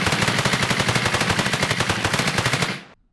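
A rapid burst of automatic gunfire, a weapon effect in an Unreal Engine 5 third-person shooter, rattles out steadily for nearly three seconds before cutting off abruptly.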